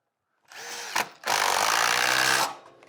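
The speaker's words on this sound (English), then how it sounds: "And then I'll put in the first 7/16 little lag bolt." Power drill driving a 7/16 lag bolt during a roll-up garage door install: a short motor whir, a brief pause, then a longer steady loud drilling burst close by that cuts off.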